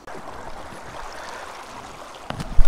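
Mountain stream water running over rocks in a forest, a steady close wash of flowing water that continues evenly, with a few louder splashes and knocks near the end.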